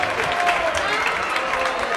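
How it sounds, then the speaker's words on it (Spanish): An audience at a live concert applauds, a dense, even wash of clapping that holds steady for the whole moment, close and fairly loud. "Fuerte aplauso para Aritz, que va a venir aquí a cantar con puro relajo"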